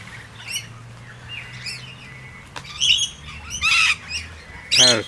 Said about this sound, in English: Parrots are social birds as well.